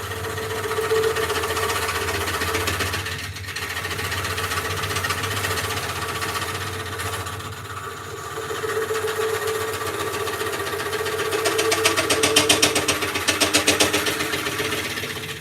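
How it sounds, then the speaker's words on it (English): A carbide scraper chatters against a live-edge bowl spinning on a wood lathe, a steady rattling buzz over the motor hum that grows louder and rougher toward the end. "Getting a lot of chatter there."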